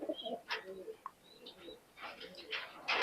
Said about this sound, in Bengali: খুব সুন্দর একটা কবুতর